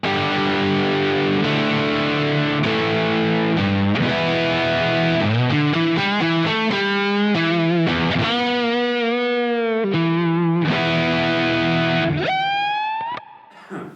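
A roasted ash Stratocaster electric guitar plays on the neck pickup with a warm, rounded tone, sustained chords and bending single notes ringing out continuously before fading at the end.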